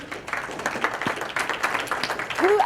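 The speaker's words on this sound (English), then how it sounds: "Round of applause for Roma." Scattered applause from a small audience for a woman named Roma, uneven and moderately loud, with a voice speaking near the end.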